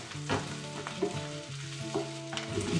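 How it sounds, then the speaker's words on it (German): Spring onion, ginger and garlic sizzle in a hot oiled pan, a close, steady frying hiss with intermittent stirring scrapes and clinks and some background music tones. "Wieder ein Schuss Öl, Lauchzwiebel, Ingwer und Knoblauch zusammen in der heißen Pfanne anschwitzen."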